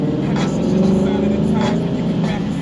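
Lexus IS F with an RR Racing intake and tune drives along, its engine droning loud and steady from inside the cabin with slight swells in revs.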